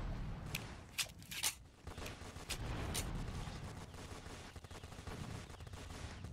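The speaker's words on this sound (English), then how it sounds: "This guy tried to shoot at me." Gunfire in the Roblox game Fortnite, several sharp synthetic shots popping early and around the third second over a low rumbling game background, fairly faint.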